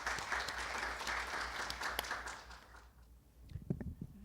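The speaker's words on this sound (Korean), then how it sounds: "큰 박수로 환영 부탁드립니다." An audience at a 2017 health-policy forum opening ceremony applauds to welcome a government official, with dense steady clapping that fades out after about three seconds, followed by faint shuffling and voices.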